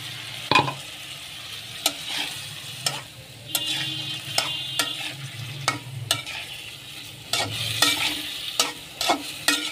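Chicken meat and potatoes frying in a pan are stirred with a utensil, making repeated sharp scrapes and clinks over a steady close sizzle.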